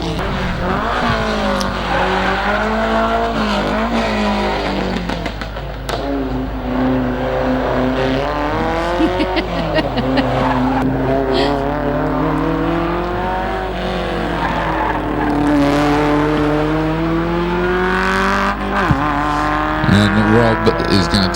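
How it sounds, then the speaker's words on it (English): A Mark 1 Cortina racing car climbs a hillclimb course, its engine loud and close as it revs up and down through gear changes, with brief tyre squeal and a commentator talking over it. "As Robert Butt makes his way to the top now in his Mark 1 Cortina"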